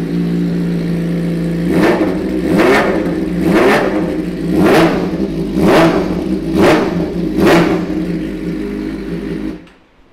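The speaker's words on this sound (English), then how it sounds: "I'll give it a start for you." A 2012 Suzuki GSXR600 motorcycle idling close up, then revved sharply about seven times in a steady rhythm, each rev rising and falling, before the engine is cut and falls silent.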